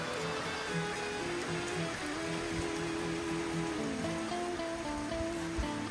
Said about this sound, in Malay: Betul hujan pula turun.